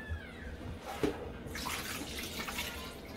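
Running water splashes steadily as catfish is rinsed in a container while preparing steamed liboke, a continuous tap-like flow with a brief clatter partway through.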